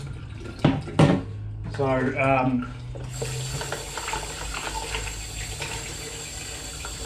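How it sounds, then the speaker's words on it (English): Tap water runs to rinse and fill a tub, a steady rushing stream that starts partway through and continues to the end. A person speaks briefly over some dish clatter before the water comes on. "I'm going to fill up that tub after I rinse it out."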